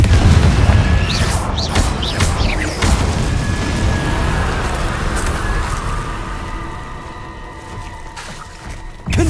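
The Confringo explosion spell goes off in the video game Hogwarts Legacy: a loud, dense boom bursts at the start, then a rumbling blast wash slowly fades over several seconds before a final pop.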